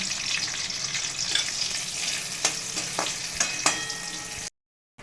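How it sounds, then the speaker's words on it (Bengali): A dried red chilli, cashews and raisins frying in oil left over from frying pointed gourd, a steady close sizzle with a few sharp spatula scrapes near the end before sudden silence. "এবার আমি ওই পটল ভাজা তেলের মধ্যেই দেখো দিয়ে দিচ্ছি একটা শুকনো লঙ্কা আর কতগুলো কাজু আর কিশমিশ এগুলো আমি ভেজে নেব"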